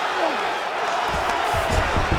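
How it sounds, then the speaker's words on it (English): A roaring arena crowd cheers in a UFC fighting video game, a broad wash of noise with swelling thumps toward the end, loud and steady over the whole moment. "Oh, crowd just loving it as the fighters, after an extended grappling battle, make their way back to the field."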